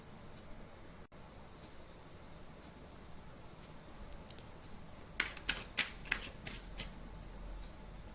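Tarot cards are shuffled in a few quick riffling bursts near the end, following a stretch of quiet room tone with faint background noise.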